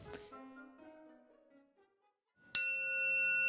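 A single metallic bell strike rings out clearly after a quieter fading tone and a moment of silence, its bright overtones sustaining.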